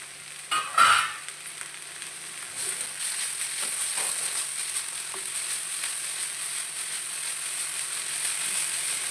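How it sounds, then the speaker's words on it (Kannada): Coriander leaves and mint fry with chicken for a green masala, a steady close sizzle in the pan, with a brief clatter of stirring at the start. "ಈಗ ಈ ಟೈಮಲ್ಲಿ ಈ ಕೊತ್ತಂಬರಿ ಸೊಪ್ಪು ಪುದೀನ ಹಾಕೋದು, ಅದನ್ನು ಒಂಚೂರು ಫ್ರೈ ಮಾಡಬೇಕು"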